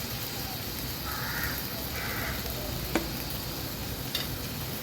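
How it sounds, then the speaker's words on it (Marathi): Chopped shevale leaves go into a ground spice paste frying in hot oil, giving a dense, continuous close sizzle with soft stirring and two brief sharp clicks partway through. "हे बघा वाटण पण आपण तेलावर छान शिजवून घेतलं आहे आता हे शेवळे जे चिरून घेतलेत ते आपण ऍड करूया"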